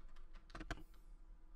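A brief, quiet burst of computer keyboard typing, a handful of quick key clicks clustered together over a soft background hum.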